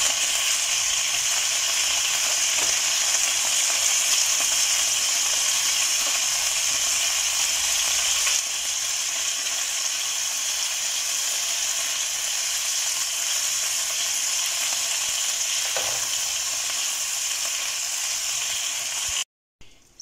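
Meatballs browning in a hot pan give off a steady, close sizzle and crackle that carries on continuously, with a few soft clinks of stirring and no talking.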